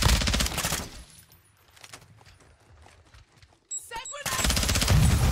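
Vel 46 submachine gun fire in a Call of Duty match: loud rapid-fire bursts open and close the stretch, with quieter scattered shots, footsteps and game effects in between.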